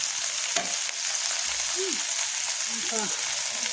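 Shrimp paturi wrapped in bottle gourd leaves frying in a little oil on a tawa over low heat, giving a steady close sizzle throughout, with faint brief voices in the background.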